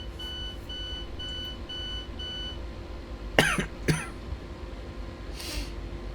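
A series of about five evenly spaced electronic door warning beeps sounds from a Rapid Transit train in Train Sim World, steady and moderately loud at first, then fades out as two sharp coughs or throat-clearing sounds follow close by.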